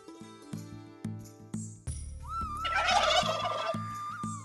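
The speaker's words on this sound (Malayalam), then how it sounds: "ഏഴഴകിന്റെ കറുപ്പ് ചാമരം വീശി 20 ടർക്കി കോഴികളുണ്ട് ഇവിടെ." Black turkeys in a campus farm flock gobble loudly, rapid rattling calls rising and overlapping near the middle, with rhythmic clucks and pulses around them, close and clear without speech.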